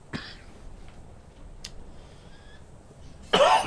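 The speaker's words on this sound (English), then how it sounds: "I apologise profusely for the continued coughage." A person coughs close by in an indoor room, with a short harsh burst right at the start and a louder, longer coughing fit at the very end, separated by quiet.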